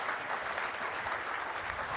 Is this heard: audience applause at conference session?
yes